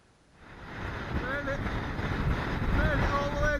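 Strong wind buffets the microphone on an exposed hilltop during a high-wind tent test, a loud continuous roar that swells after a quiet start and stays heavy throughout.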